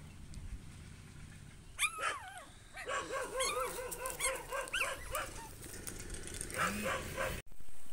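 A stray dog yelps, whimpers and barks in a close, high-pitched burst of rapid calls, with a quieter whine near the end.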